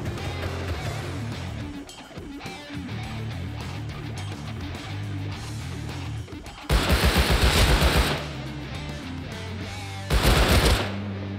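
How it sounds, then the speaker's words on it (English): Tommy gun shots in the Rust console game ring out in two sharp, loud bursts of rapid automatic fire, each lasting about a second or more, over a steady backdrop of ambient game noise. "when we ended up hearing some Tommy shots"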